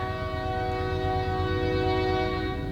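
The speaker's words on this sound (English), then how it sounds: "Train." A train rolls steadily past close by, its horn holding a sustained multi-tone chord through the whole stretch over a constant rumble of wheels and cars.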